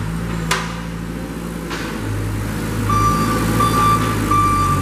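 A 2014 Princeton PB50 piggyback forklift's backup alarm beeps in a steady, repeating rhythm over a low engine idle, with a couple of metallic clanks early on.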